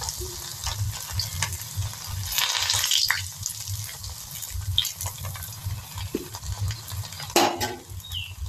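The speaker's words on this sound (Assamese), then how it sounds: "এইটো কি সুন্দৰকৈ ফ্ৰাই হৈছে আপোনালোকে দেখিছে এতিয়া" Banana flower frying in a pan over a gas flame, a steady sizzle broken by stirring scrapes and occasional clinks of a utensil against the pan.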